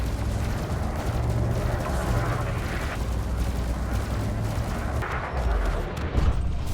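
A spaceship in Elite Dangerous fires all its weapons at once on an enemy ship, producing a continuous roar of rumbling blasts and crackling weapon fire, loud and sustained with heavier bursts toward the end.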